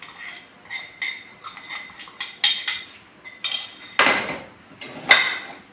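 A spoon stirs ghee-fried nuts, raisins and sesame into flattened rice, producing a series of bright metallic clinks and scrapes against the vessel in an uneven rhythm, with a few louder knocks near the end.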